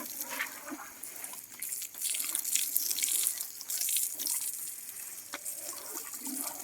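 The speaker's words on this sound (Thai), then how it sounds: "ก็พาทองนั้นมาอาบน้ำนะครับก่อนจะขึ้นไปข้างบนนะครับ" Water splashes and runs in a fluctuating, moderately close stream while an elephant is bathed outdoors, with no talking.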